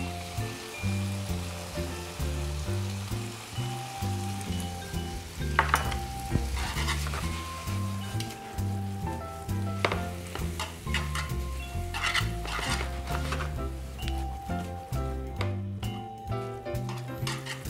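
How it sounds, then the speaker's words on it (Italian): Tagliatelle in a guanciale and red onion ragù sautés in a pan with parsley added, a dense crackling sizzle under rhythmic tossing and scraping that pulses steadily throughout, close and loud with no talking. "mentre la saltiamo aggiungiamo un pochettino di prezzemolo"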